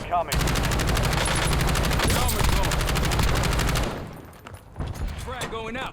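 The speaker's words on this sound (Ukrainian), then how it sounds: "Постріляю і скажу норм чи ні." Automatic gunfire in Call of Duty Warzone, a dense rapid burst running loud and steady for nearly four seconds, then breaking off into quieter game sounds and scattered clicks.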